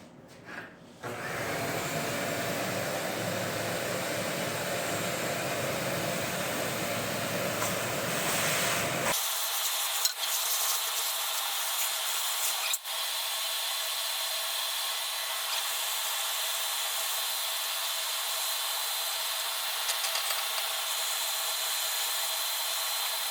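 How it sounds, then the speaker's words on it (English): A vacuum cleaner sucks debris from inside an older 1980s Snapper mower with a loud, steady rushing drone. Partway through, the roar thins to a higher, airier hiss that carries on evenly to the end, with no talk. "take a vacuum cleaner and go around there and see if I can suck all those little nodules off"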